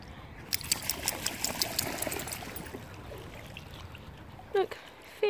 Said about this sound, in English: I'm getting water in my wellies.